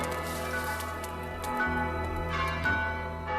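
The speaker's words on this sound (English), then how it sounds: "The bells were ringing in the dale" Bells ring in the valley town of Dale in the Rankin/Bass animated Hobbit, sustained overlapping tones layered over a steady musical drone, moderately loud and echoing as if carried across a distance.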